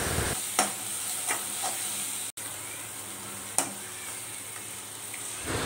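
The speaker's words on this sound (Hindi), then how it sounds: "तो इसको इसी तरीके से चलाते हुए अच्छे से भूनेंगे, जब तक इसमें कोई अच्छी सी जो है खुशबू नहीं आ जाती" Onions fry in a pan for a paneer tikka masala, a constant close sizzle broken by occasional scraping knocks of a stirring spoon.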